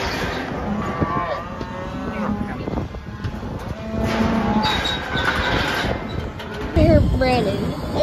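Cows on a cattle farm moo repeatedly, with several long, close bellows overlapping one another against a steady outdoor background and some voices.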